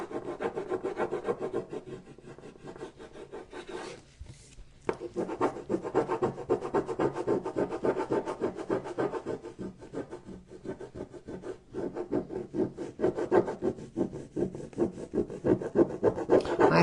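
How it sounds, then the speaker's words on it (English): Steady rasping of sandpaper on wood, continuous with quick back-and-forth strokes and a brief pause early on, close and moderately loud. "My husband's outside sanding for me"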